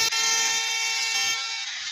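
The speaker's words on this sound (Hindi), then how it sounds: "एक बार दूसरा हॉर्न हम ब्लो करते हैं।" A loud, steady train horn from a train simulator video game sounds for almost two seconds, a bright chord-like blast that fades slightly toward the end.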